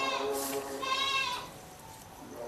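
A large, long-horned goat on a Punjab goat farm bleats twice in close succession, near and fairly loud, the calls trailing off into quiet farmyard background.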